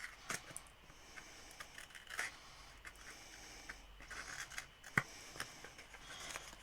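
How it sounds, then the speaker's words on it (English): Small scissors snip and trim the scored edges of a handmade paper gift bag, producing faint, intermittent clicks and crisp cuts with a sharper snip midway, alone against quiet room tone. "I'm going to use the smaller scissors."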